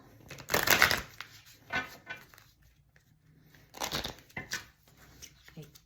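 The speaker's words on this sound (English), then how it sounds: "I actually want to shuffle this deck." A deck of tarot cards is shuffled by hand in two distinct bursts of riffling and flicking, close and crisp, separated by a quieter pause with a few light card taps.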